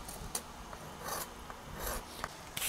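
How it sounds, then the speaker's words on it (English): A scraper is drawn across the wood of a custom guitar build to clear file marks, giving a series of short, dry rasping strokes, close up and fairly quiet, with no voices. "The scraper just helps get the file marks out of there a little quicker."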